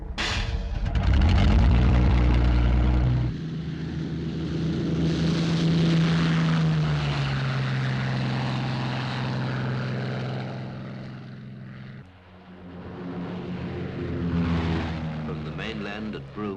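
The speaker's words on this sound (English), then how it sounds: "From the mainland at Broome, Lincoln bombers of the Royal Australian Air Force take off to reinforce the security patrol" Royal Australian Air Force Lincoln bombers, propeller aircraft, take off from Broome, a loud multi-engine drone that swells, surges and holds steady before easing off, with a voice narrating over it.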